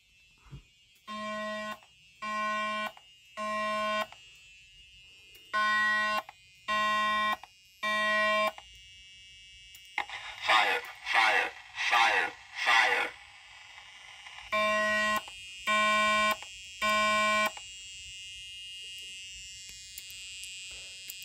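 A fire alarm triggered by a new heat detector warmed with aluminum foil sounds in loud, evenly spaced electronic beeps in groups, broken midway by a harsher, buzzing pulsed tone before the beeps return.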